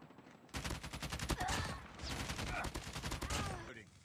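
Rapid bursts of automatic gunfire in the mobile shooter COD Mobile, a dense rattling volley running almost continuously after a quiet start, loud and close, with brief voice fragments underneath.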